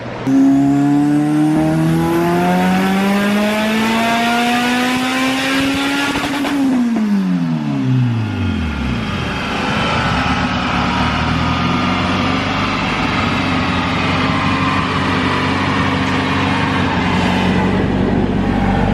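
A powerful turbocharged Honda engine on a dyno at 16 psi boost revs steadily upward, then drops off sharply with a whooshing release, idling roughly and loudly afterward in an enclosed space.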